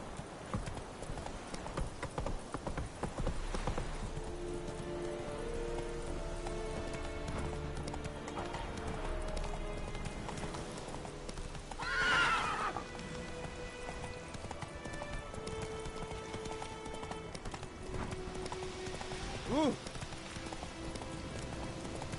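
The horse Roach gallops in rapid rhythmic clip-clopping hoofbeats, fairly faint and continuous, with a brief whinny-like burst midway and light rain-like texture in the background.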